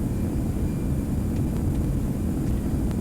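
Steady broadband roar of an airliner's thrust reversers during landing rollout on the runway in X-Plane 11, continuous and unbroken with no voices.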